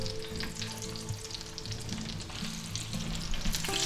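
Chicken ranch patties frying in a pan with a continuous close sizzle and crackle, some stirring or shifting noises, and a faint background hum, with no voices.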